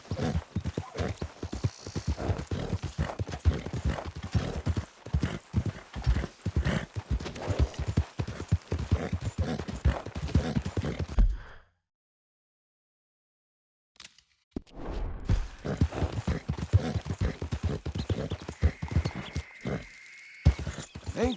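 A single horse's hooves in Red Dead Redemption 2, a brisk, steady clip-clop at close range that stops for a few seconds of silence and then resumes, with no talk.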